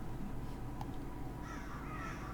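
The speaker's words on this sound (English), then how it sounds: "Crows are not what they seem to be." Crows caw in the video game Saint Kotar, faint calls rising over a dense, low ambient drone, with no voices present.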